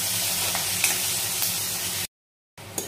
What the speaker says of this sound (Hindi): तो प्याज को फ्राई कर लेते हैं अच्छे से।